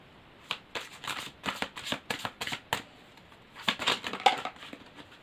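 Tarot cards being shuffled by hand in quick riffling bursts, a run of crisp flutters followed by a short pause and a second, louder series, close and clear with no talking.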